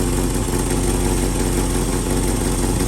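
A 1967 Mustang coupe engine idles after being restarted with the vacuum advance reconnected, a close, steady, even rumble with a smooth low throb throughout, no talking.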